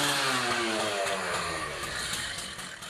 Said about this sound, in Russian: Это для нас в руках сотрудника ОМОНа болгарка.